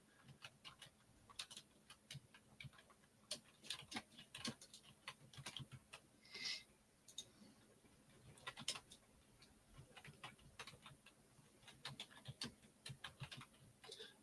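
Quiet, irregular typing on a computer keyboard, light key clicks in quick bursts with short pauses, close and faint with no voices.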